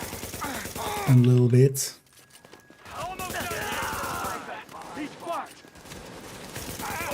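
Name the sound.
gunfire from The Division video game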